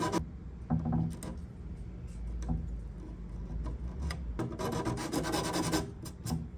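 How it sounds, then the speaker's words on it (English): Wood veneer on an Art Deco vanity being hand sanded: steady, close rubbing strokes in a loose rhythm, fairly loud and continuous, with no voices. "I give it a good sand."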